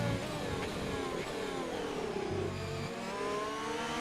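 Racing cars running side by side toward turn one at a Hungary round of a racing game, engines droning and climbing steadily in a loud, unbroken whine with no voices.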